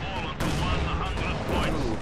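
Heavy artillery blasts from a B4 howitzer in a World War II video game battle, two loud booming shots about a second apart over a dense rumbling din, with a commentator's voice beneath.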